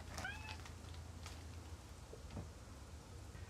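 A cat gives a short, faint meow near the start, followed by soft scattered ticks and patters against a quiet background hiss that sounds like light rain.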